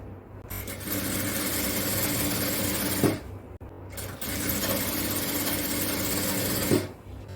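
A sewing machine stitches along a folded fabric strap in two long continuous runs of steady whirring, paused briefly between them, close and fairly loud with no talking.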